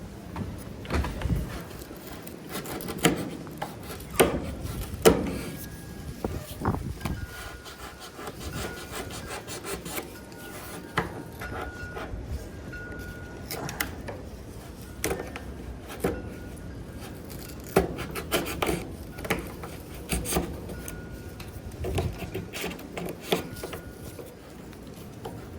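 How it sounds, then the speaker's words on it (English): A knife shaves and chisels out wood in a carport-to-man-cave build, giving repeated close scraping and rubbing strokes with sharp little bursts in an uneven rhythm. "let's take and chisel that out just a little bit with a knife"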